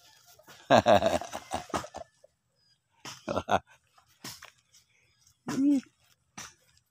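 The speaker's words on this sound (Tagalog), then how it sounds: "Alagang-alaga ang mga manok" Chickens cluck in short bursts close by at a beach, with quiet pauses between, and a person speaks briefly among them.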